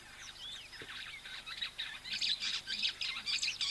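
A straw-tailed whydah at a waterhole gives a run of bright, rapid chirps and squeaky twittering notes, fairly close and growing busier toward the end.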